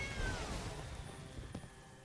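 A single drawn-out cat meow sounds as a cat token is created in the MTG Arena card game, fairly soft and falling in pitch over a couple of seconds.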